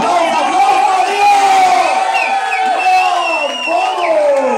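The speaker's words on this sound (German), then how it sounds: "erstmal Applaus an hier!" A club crowd at a live show cheers, whoops and shouts loudly and continuously, the sound full and close with voices rising and falling throughout.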